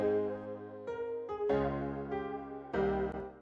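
Dry piano sound in a Cakewalk trap beat production with no effects, a handful of clean notes struck in a short melodic sequence, each ringing and decaying, heard alone.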